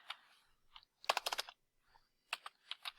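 Bursts of quick clicks from typing on a computer keyboard, three short clusters of keystrokes separated by quiet pauses, close and clear with no talk.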